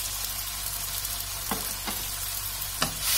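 Vegetables and rice sauté in a pan for a vegan green rice, a steady close sizzle broken by a few sharp stirring scrapes and clicks, with no talking.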